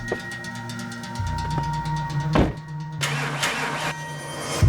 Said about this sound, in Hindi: इसके स्टार्टर में थोड़ी प्रॉब्लम आ रही है, चेक करके देखो क्या।